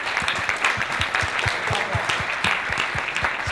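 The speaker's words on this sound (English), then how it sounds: "big round of applause" An audience at a speed-debate event applauds the debaters, full sustained clapping from a crowd with distinct hand claps standing out up front, steady throughout.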